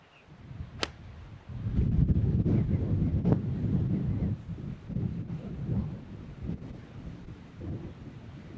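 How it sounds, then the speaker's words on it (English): Steady wind gusts buffet the microphone on a golf course, a continuous low roaring rumble that swells and eases over several seconds with occasional sharp knocks. "It's windy."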